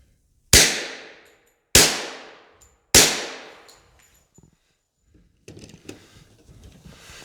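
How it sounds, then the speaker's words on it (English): Three sharp, loud suppressed shots from an HK pistol in .45 caliber, evenly spaced about a second apart, each with a ringing decay, followed by softer metallic handling clatter. "here's again a different suppressor and a different gun, the HK, but same caliber in the 45"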